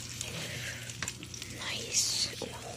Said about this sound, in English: Sizzle popping.